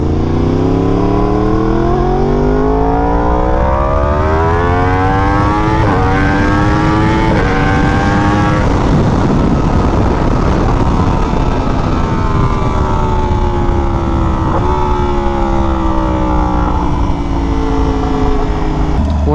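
A Yamaha R1M motorcycle revs and pulls through rising gear shifts, engine whine climbing and dropping loudly up close against strong wind rush, with a rider talking over it.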